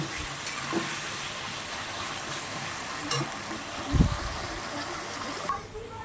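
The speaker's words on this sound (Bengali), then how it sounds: "এখন আমি আলুটা পুরোপুরি ভেজে নেব।" Potatoes frying in a pan make a soft, continuous sizzle with a few faint clinks and stirring thumps. The sound is close and even throughout.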